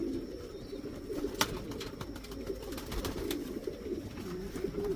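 Show pigeons coo softly in a loft, a low continuous murmur of several birds with faint rustling and a few sharp clicks over steady background noise.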